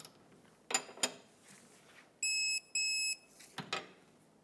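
Two steady electronic beeps from a torque wrench as it reaches torque on a rear shock absorber nut of a 2004-2012 Chevrolet Colorado, set between sharp metallic clicks and clanks of the tool, close and without talk.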